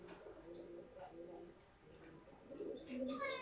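Soft, low coos of pigeons, including racing pigeons, repeat close by in a loft, with a voice talking over them.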